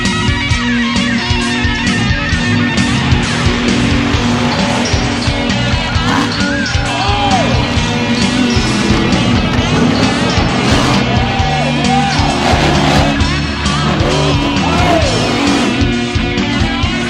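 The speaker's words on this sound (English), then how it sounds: "the tough trucks go door to door in Hughesville" Four-wheel-drive tough trucks race door to door at the Lycoming County Fairgrounds in Hughesville, Pennsylvania, their engines roaring loud and continuous with layered revving throughout.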